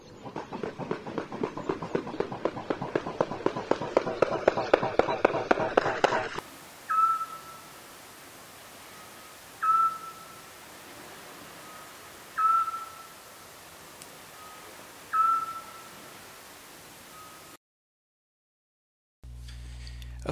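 A bird recording from Spain played back from the xeno-canto archive: a rapid rattling series of calls fading out, then four spaced, clear whistled notes repeating at a slow even pace, with a short burst of other sound at the end.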